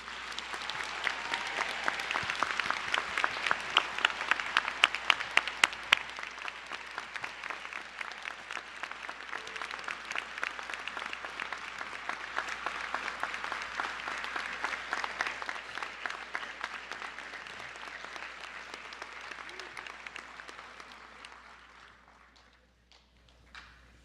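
An audience applauds new National Honor Society inductees at a high school induction ceremony, steady dense clapping from a large crowd that carries on for over twenty seconds before fading out.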